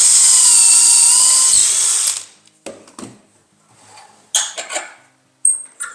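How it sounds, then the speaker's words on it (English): Power drill boring a dowel hole through a locked-down Dowelmax jig, a loud steady whine for about two seconds that stops abruptly, followed by scattered clicks and knocks of handling. "and drill it"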